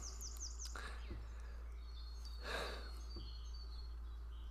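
Several short, high bird chirps, a few quick repeated notes early on and a brief call later, over a steady low hum.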